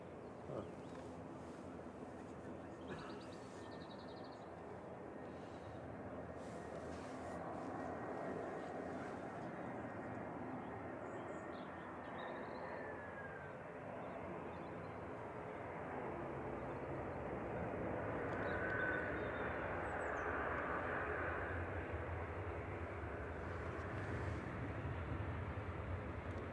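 An EasyJet airliner passes near Manchester Airport, a faint, steady broadband roar that swells slightly over the second half, with distant rumbling and no nearby voices.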